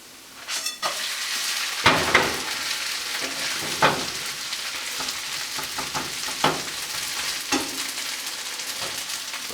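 Hash browns frying in a pan on the stove after being flipped, a steady close sizzle with occasional louder crackles and spatula scrapes.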